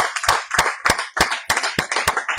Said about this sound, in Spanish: Pues vamos a darle otro aplauso, ¿verdad?